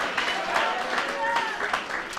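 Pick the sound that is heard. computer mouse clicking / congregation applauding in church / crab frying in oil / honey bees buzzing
congregation applauding in church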